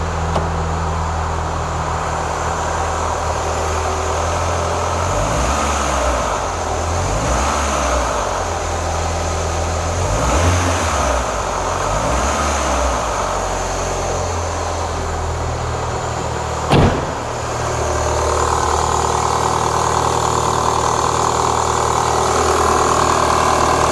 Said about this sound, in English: There's a little noise at the top. Let's give it a tiny rev.